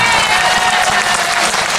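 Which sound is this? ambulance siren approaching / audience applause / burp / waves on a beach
audience applause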